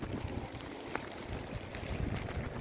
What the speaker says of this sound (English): It's just really windy and rainy and my umbrella's falling.